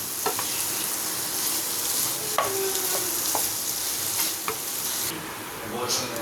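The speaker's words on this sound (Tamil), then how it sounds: "இது இன்னொன்று ஒரு 2 நிமிஷம் ஃப்ரை ஆகட்டும்" Chicken pieces fry in a pan for a Karnataka-style chicken fry, sizzling steadily up close while a spoon scrapes and stirs in several distinct strokes and clinks against the pan.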